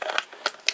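Shockwave figure from the Transformers Titans Return line being unpacked: a few short, bright crinkles of packaging plastic and card, close and fairly quiet, with gaps between the bursts.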